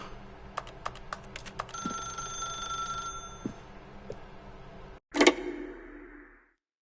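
A telephone rings in the video game The Stanley Parable, a sustained ringing tone with light ticking clicks in the background, ending in a sharp loud clatter as the receiver is picked up, no talk.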